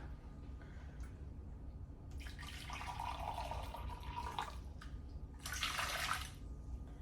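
Hot water poured into a cup for unflavored gelatin in an old-fashioned kitchen, two bursts of splashing, filling liquid over a steady low background hum, moderately close and fairly soft.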